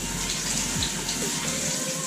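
Tap water runs steadily into a sink while ingredients for a Waray-style tuna tinola are washed, a close, continuous hiss with light splashing throughout.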